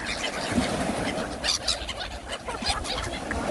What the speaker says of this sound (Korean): 바다에 오면 갈매기들하고 노는 것도 참 재밌죠?